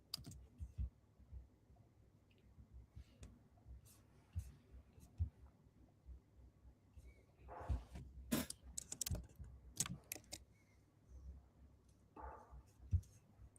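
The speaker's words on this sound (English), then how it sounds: "Good old Samantha is typing." Computer keyboard typing during a session of building with AI coding tools: irregular bursts of quiet, close key clicks with short pauses, growing busier and louder in the second half, with faint background rustle.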